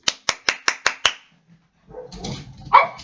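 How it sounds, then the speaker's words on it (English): Six sharp, evenly spaced dog barks ring out close and loud, followed by a pause and then rustling and a faint whine. "don't mind the barking"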